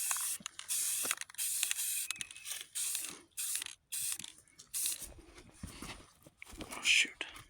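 Stems of aluminum can metal flowers getting a coat of green spray paint: irregular aerosol hisses broken up by clicks, rattles and handling clatter, with a voice speaking in places.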